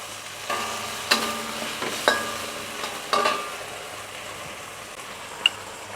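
Shrimp and luffa stir-fried in a pan, a soft continuous sizzle broken by three or four distinct spatula clanks and scrapes, close and moderately loud.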